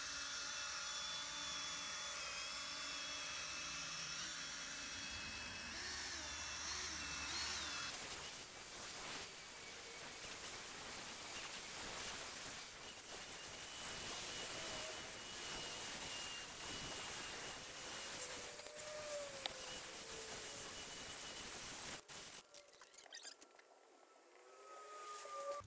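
A rotary polishing disc spins against spray-repainted car bodywork, producing a continuous high whirring whine with small shifts in pitch. It stops abruptly near the end.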